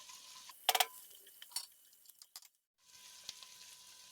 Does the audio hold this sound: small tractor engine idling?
no